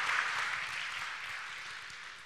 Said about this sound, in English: you get an applause from the audience, of course